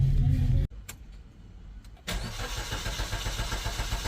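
A Maruti Suzuki Baleno with a pickup and acceleration problem: a running engine cuts off abruptly, followed by a second of near-quiet, then cranks and catches again, settling into a steady, close idle.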